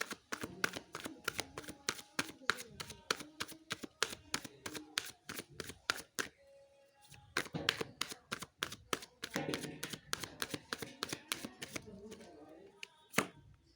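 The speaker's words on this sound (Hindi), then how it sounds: "कार्ड आप सब लोगों के सामने ही शफल हो रहे हैं" Tarot cards are shuffled by hand in a quiet room, a long series of quick riffling snaps and taps that pauses briefly midway and then continues.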